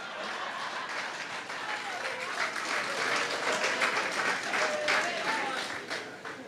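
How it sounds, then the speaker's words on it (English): An audience at a political party convention applauds a recognised guest, a swelling wash of clapping and crowd noise that builds and then fades slightly, with voices mixed in. "you could stand now and take a round of applause"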